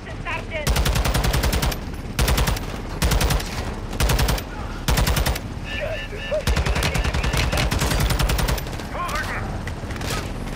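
Rapid automatic gunfire from Call of Duty: Modern Warfare II (2022), loud close bursts of dense rattling shots lasting about a second each, separated by short gaps, followed by a longer sustained volley, with faint game voices mixed underneath.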